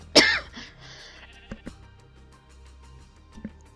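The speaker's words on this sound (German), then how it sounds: "Muss ich doch glatt husten." A single sharp, loud cough bursts out right at the start, followed by a quiet stretch with a few soft clicks and taps.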